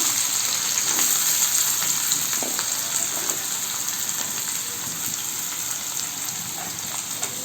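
Chopped onion sautés in a pan with a constant, even sizzle like light rain, with faint stirring scrapes and no voices.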